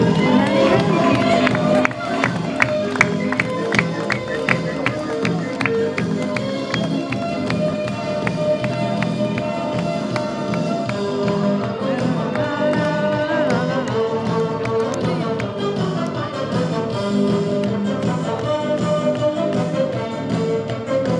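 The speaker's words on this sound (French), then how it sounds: "Applaudissez, applaudissez, applaudissez." A crowd claps and cheers at a lap of honour, a dense rhythmic patter of hands with shouting voices that runs steadily for about twenty seconds, mixed with background music.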